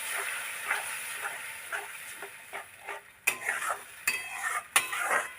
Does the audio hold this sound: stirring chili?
yes